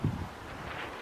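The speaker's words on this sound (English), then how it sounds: "Sorry, once again, it's a very windy day." Gusting wind buffets the microphone outdoors on a very windy day, with a brief low thump from a flapping gazebo at the start and a steady rushing roar after.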